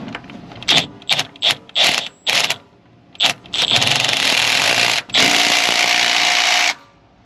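A power tool spins a bolt out of the axle on a 2015 Tahoe, with loud close ratcheting bursts in short rapid pulses that give way to longer sustained whirring runs.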